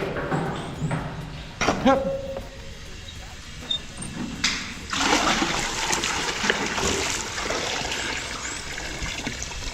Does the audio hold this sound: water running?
yes